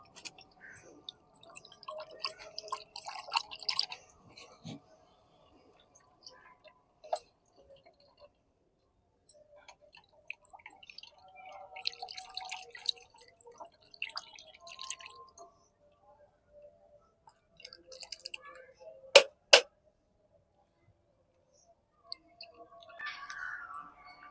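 Liquid from a chilli plant solution drips and trickles through a strainer holding peels, in irregular small splashes and squishy bursts separated by quiet gaps.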